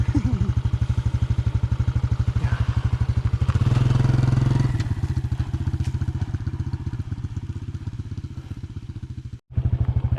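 A motorbike engine running in first of four gears, loud rhythmic chugging pulses close by that swell briefly and then settle, with a short cutout near the end.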